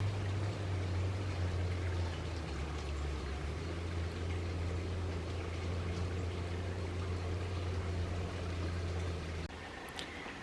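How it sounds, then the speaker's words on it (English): Flowing water from a babbling brook outdoors in autumn, a steady continuous rush with a strong low rumble, fairly loud and unbroken throughout, with no talking. "I hope you can hear me over the babbling brook."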